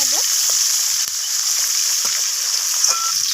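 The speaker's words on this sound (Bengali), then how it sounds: "তো মাছগুলোকে একটু লালচে করে দু পিস ওলট পালট করে ভালোভাবে ভেজে নেব" Rohu fish pieces fry in hot oil with a steady, close sizzle while a spatula turns them, adding a few soft scrapes and clicks.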